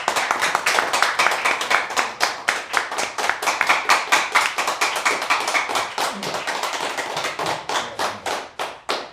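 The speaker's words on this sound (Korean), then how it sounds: "큰 박수 부탁드립니다" An audience at a Seoul National University forum welcomes a guest speaker with close, crisp clapping in a steady, dense rhythm that continues for several seconds and eases slightly toward the end.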